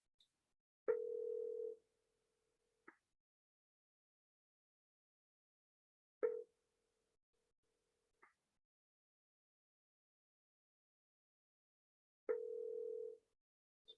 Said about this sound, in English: I hope you guys can hear the ringing.